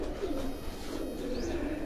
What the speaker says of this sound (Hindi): ये उन्हीं के घर के ये लाखे कबूतर जो हैं